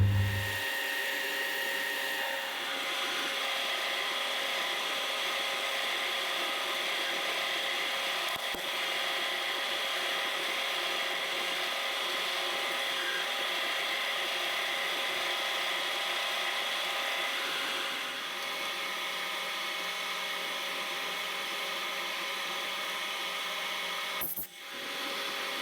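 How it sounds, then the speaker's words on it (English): A steady, grinding whir of drilling a 9mm hole into metal runs continuously for most of the stretch, close and even, with a brief clunk near the end. "so I've got to drill a 9mm hole there"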